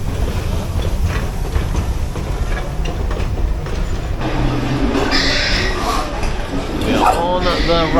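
A Disneyland Paris ride train rumbles steadily along its track through a Grand Canyon scene, with rattling, rhythmic wheel noise, while people chatter faintly in the background throughout.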